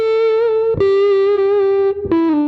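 Loud, distorted electric guitar notes played on a guitar in great condition, three sustained tones each sliding slightly, with a thick, dark character.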